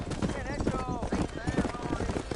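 Horse hooves clip-clopping in Red Dead Redemption while cattle are herded down a road, a steady trotting rhythm under continuous overlapping voices and game sound.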